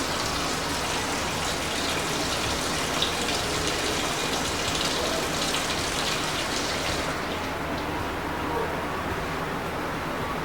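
Water gushes loudly and steadily from a household tap at close range, a dense continuous rush that thins slightly near the end as it is shut off.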